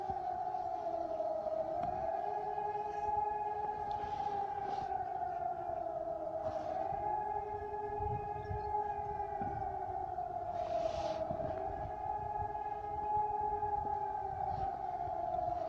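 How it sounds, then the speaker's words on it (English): German air raid and disaster alert sirens under test wail as a distant, sustained rising-and-falling tone across a wide outdoor area, with faint ambient noise beneath. "they're testing the air raid sirens and disaster alert sirens today here in Germany"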